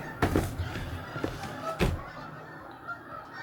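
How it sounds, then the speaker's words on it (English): Canada geese flying overhead honk loudly a few times, two sharp calls standing out against a breezy outdoor background. "Oh man, the Canadian geese are flying south."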